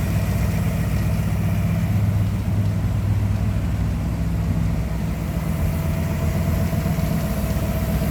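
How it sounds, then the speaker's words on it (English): A 1957 Mercury Montclair hardtop's V8 engine with chrome valve covers idles close by, a loud, steady, even low rumble that continues unbroken with no speech. "Just a smooth running V8."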